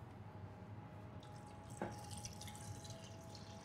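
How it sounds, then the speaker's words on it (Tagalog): Water trickles and splashes into a pot of braising pork for humba, a soft, steady pour with a brief louder splash midway, fairly close and alone without talk. "So lalagyan lang natin ng konting tubig."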